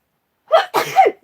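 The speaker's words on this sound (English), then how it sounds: "I'm gonna sneeze" A single close, loud sneeze: a sharp inhaled catch followed by a forceful burst, with no talking around it.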